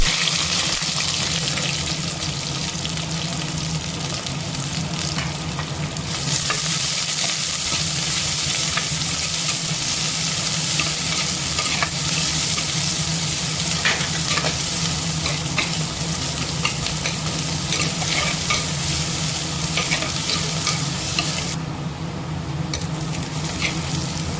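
Dried chili, four or five garlic cloves, onions and shallots sizzle steadily while tempering in hot oil, a loud continuous frying hiss with occasional stirring scrapes and no talk.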